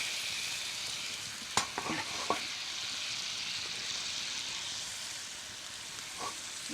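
Steaks cook over an outdoor campfire at a rustic deer camp with a steady, fairly faint sizzle, broken by a few sharp clicks and scrapes near the start.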